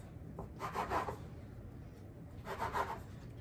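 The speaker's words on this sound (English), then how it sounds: "Then you're going to cut your log into equal slices." A knife cuts a rolled log of no-knead bread dough into equal slices for jam rolls, giving two soft, muffled rubbing strokes about two seconds apart, close by and quiet over a faint low room hum.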